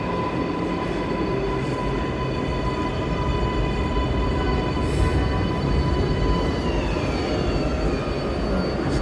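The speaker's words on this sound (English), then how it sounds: "train to Hudson Yards is coming in." A New York subway train bound for Hudson Yards pulls into the lower-level platform at Times Square at midnight, with a loud, continuous roar and rumble plus faint, steady high whines and a brief squeal near the end.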